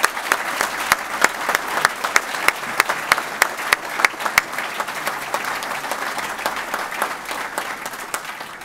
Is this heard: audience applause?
yes